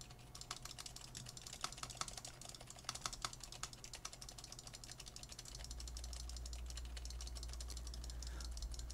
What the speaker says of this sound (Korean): 키보드와 마우스 버튼을 눌러 보도록 하겠습니다